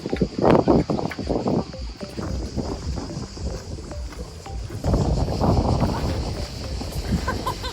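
Wind gusts buffet the microphone outdoors on the water during a stand-up paddleboard outing, rumbling in uneven bursts that swell and fade, with occasional faint voices nearby.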